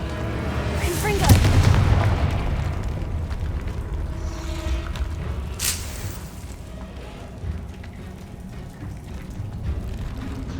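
A Confringo explosive spell cast in Hogwarts Legacy: one sharp, loud boom with a rumbling tail early on, followed by fainter crackles and a second burst, with game ambience underneath.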